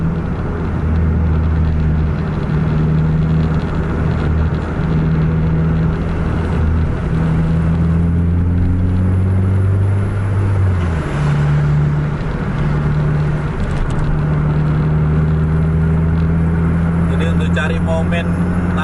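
Trucks travel a road at night near Langsa, coming from Medan or Aceh: a loud, constant engine drone and road rumble continues throughout, with someone talking over it.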